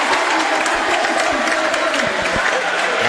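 A basketball crowd cheers and applauds after an offensive foul call in a men's grand final, a steady roar of cheering and clapping filling the gym for the whole stretch.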